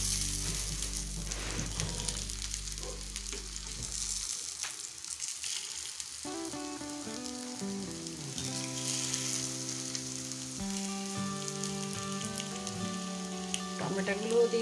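Fried potatoes sizzle in oil in a pan for a potato pizza, a fairly quiet steady crackle with soft stirring, under background music.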